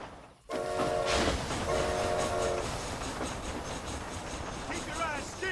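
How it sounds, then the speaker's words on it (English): A train from the video game Red Dead Redemption rumbling steadily along the tracks with loud continuous mechanical noise, a horn-like tone sounding twice early on, and a voice speaking over it. "This train headed for Mexico?"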